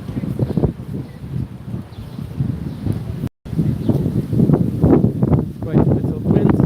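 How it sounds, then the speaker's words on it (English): Strong wind gusting along the Sliema seafront in Malta, buffeting the microphone with a low, rumbling roar that rises and falls in bursts, with voices faintly underneath. "quite a bit of wind."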